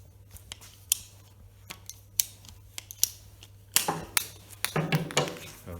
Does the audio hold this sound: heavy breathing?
no